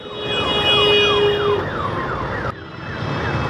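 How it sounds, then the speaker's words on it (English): An ambulance stuck in heavy Kolkata traffic sounds its siren: loud, close electronic wails sweep up and down repeatedly over the road noise, then cut off abruptly and leave only the hum of traffic. "the ambulance is stuck in the traffic"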